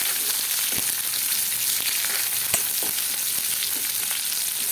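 Onions for a bitter gourd fry sizzle steadily in a pan, a dense even crackle close by with a few sharp clicks as they are stirred.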